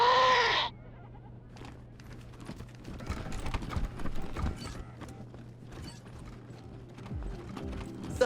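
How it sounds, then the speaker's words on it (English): Goat hooves clip-clopping at an unhurried pace across a decorated room in the Wasteland 3 video game, a string of soft knocks over a low steady hum after a brief burst of game music at the start. "A goat leisurely paces this well-decorated room."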